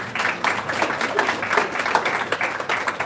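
Applause for an honoree at a ceremony recognizing guidance counselors, a crowd clapping steadily with slight swells and dips throughout.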